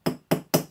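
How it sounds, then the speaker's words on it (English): A ball pein hammer strikes a rivet three times in quick, even succession, each a sharp metallic tap close by with a short ringing decay. "And what we do is hammer lightly each end of the rivet."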